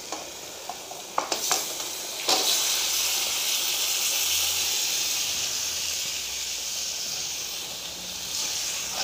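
Boiled meat and pumpkin frying in a pot for a kadu gosht dish, a loud continuous close sizzle and steamy hiss, with a few sharp clinks of a utensil against the pot near the start and stirring scrapes beneath.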